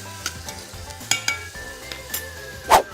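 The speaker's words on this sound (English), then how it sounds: "I'm gonna saute this. Turn this up on high." Food sautés on high heat in a pan for lemony rice with raisins, a close, steady sizzle with occasional scraping stirs and light utensil clinks, and a sharper clack near the end.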